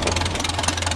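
A 1950 Oliver 66 row crop farm tractor engine runs steadily, a close, loud, rhythmic low chugging idle with a fast regular knock-like pulse throughout the short moment.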